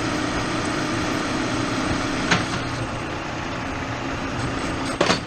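A lathe turns a drive shaft part for a 1982 Chevy K10 rear drive shaft, giving a steady, loud machine drone with a couple of sharp metallic hits near the middle and end.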